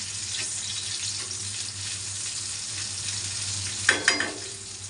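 Green chillies sauté on a hot tawa with a steady, close sizzle, broken near the end by a few sharp clatters of stirring.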